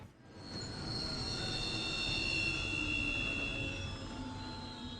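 A moving train in the video game Final Fantasy XV rumbles steadily, with sustained high-pitched wheel squeal ringing over a low rolling roar throughout, close and continuous with no talking.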